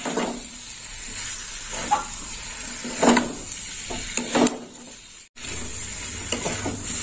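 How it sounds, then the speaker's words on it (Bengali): Elephant foot yam curry stirred in a pan after salt goes in, with soft scraping and a steady low sizzle plus a few sharper knocks of the spoon, close and fairly quiet. "লবণ দিয়ে একটু নেড়ে চেড়ে নেব।"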